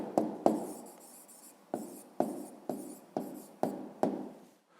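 A pen writes an answer in a notebook, giving a series of soft scratchy strokes and small taps in short bursts, quiet and close, with no talk.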